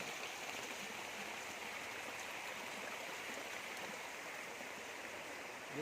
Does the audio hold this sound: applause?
no